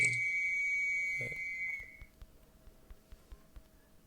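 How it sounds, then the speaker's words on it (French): A referee's whistle in a video game, used for a yellow card, blows a shrill, sustained blast that fades after about two seconds, followed by faint, regular taps. "on a un sifflet qui fait un tag carton jaune"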